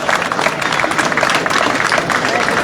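Crowd applause at a roadside Tour de France event with farmers, dense and continuous clapping throughout the short stretch, fairly loud and close, with some voices mixed in.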